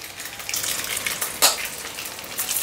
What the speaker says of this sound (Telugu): ఇటు కూడా కొద్దిగా ఫ్రై అయిన తర్వాత తీసేసుకుందాం